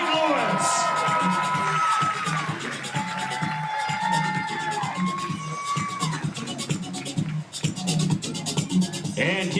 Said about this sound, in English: keep your applause coming